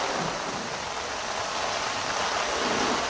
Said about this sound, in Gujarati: જોરદાર વાયરા વાવાઝોડા સાથે વરસાદ ચાલુ